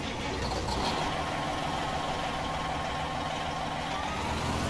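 A Caterpillar 3408 diesel engine in an ATS truck runs at a steady, continuous drone with a constant loud rumble and no talk.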